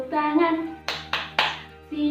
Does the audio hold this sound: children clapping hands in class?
yes